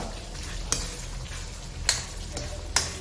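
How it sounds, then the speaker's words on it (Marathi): Fried paneer goes into a simmering Jain tikka masala gravy made without onion or garlic. A close, steady sizzle carries throughout, broken by three brief bright clinks of spoon or pan spaced about a second apart. "आता याच्यामध्ये जे आपण फ्राय केलेले पनीर होते ते याच्यात घालायचे आहेत"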